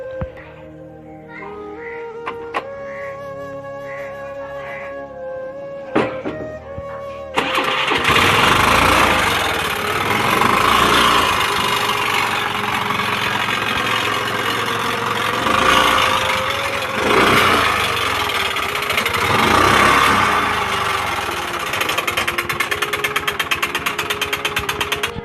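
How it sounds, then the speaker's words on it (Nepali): A Honda Activa scooter engine starts after several seconds of quieter sounds, then runs steadily with a loud, dense rattling drone through to the end. "तपाईहरुलाई म आउनुस् गाडी स्टार्ट गरेर यसको साउन्ड कस्तो भन्छ म"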